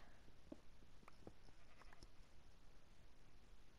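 Sheep bleat in a blocky crafting game, two or three short bleats early on over a steady low background hum, with no talk.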